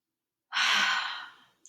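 A single deep, breathy exhale during a yoga stretch, close and soft, rising quickly then fading out over about a second.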